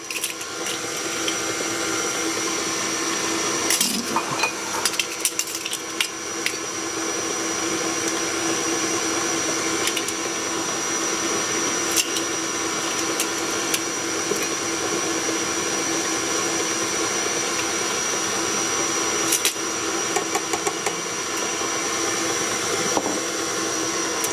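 Electric mixer whirring through cinnamon pie filling, a steady motorized hum running continuously at close range with occasional clicks and knocks.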